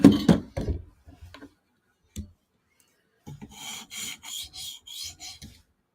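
A titanium knife blade is sharpened on a 5,000 grit stone, giving a series of close, rhythmic raspy strokes, several irregular scrapes first, then a steady run of six or seven even passes.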